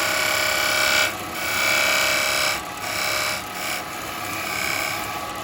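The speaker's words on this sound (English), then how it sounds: "I'm going to use my beading parting tool" Beading parting tool cutting a dovetail into wood turning on a lathe: a steady, bright hissing scrape, with several brief dips and surges in intensity as the tool is pushed in.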